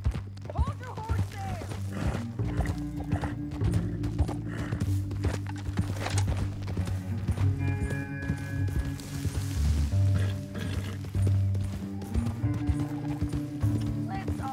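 Rhythmic hoof clip-clops of a horse moving at a steady pace in Red Dead Redemption 2, mixed with game music and occasional voices throughout.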